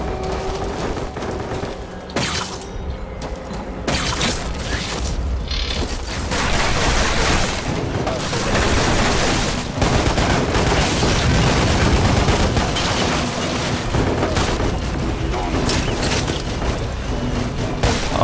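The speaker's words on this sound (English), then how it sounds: "Alright, we're shooting that grenade launcher." Grenade launcher fire in the video game Lost Planet Extreme Condition, set among dense, loud game noise of mechanical clanks, creaks and explosive booms that runs continuously throughout.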